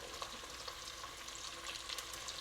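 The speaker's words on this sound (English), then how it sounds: "We're gonna cook these onions down for a little bit." Onions browning in a pot for lentil soup, a faint but steady close sizzle with tiny popping crackles running throughout.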